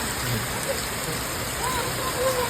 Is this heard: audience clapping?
no